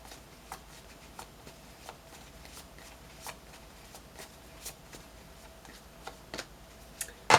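Tarot cards being shuffled and drawn, a run of soft crisp card flicks and taps spaced irregularly and heard close and quiet, ending in a louder snap.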